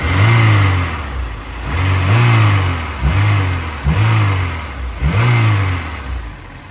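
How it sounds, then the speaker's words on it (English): A Honda car engine fitted with Spoon parts, its throttle blipped about five times in a steady rhythm, each rev rising sharply then falling back to idle, loud and close with no talking. "Let me feel the throttle."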